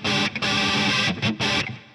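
Electric guitar played through a TC Electronic Stereo Chorus+ pedal, loud distorted chords with a wobbling chorus shimmer, struck in three bursts separated by brief gaps and left to ring and fade at the end.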